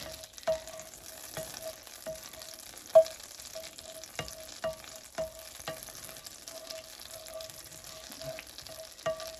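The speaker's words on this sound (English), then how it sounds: "I put a little bit of olive oil in it. You can use vegetable oil, any kind of oil you want, with a little bit of butter." Butter melting in hot olive oil in a pan, cooked as the base for a seafood lasagna with white sauce. A steady soft sizzle and fry runs throughout, with scattered sharp pops and crackles at close range.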